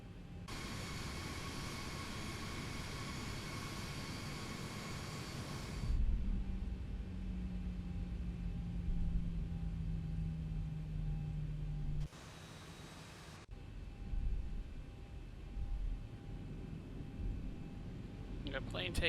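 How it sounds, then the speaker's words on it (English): A Southwest airliner takes off in the X-Plane 11 flight simulator, a steady broad engine roar holding strong, then a rising whine building underneath and fading, with a brief louder burst later and some talk over it. "Got a plane taking off."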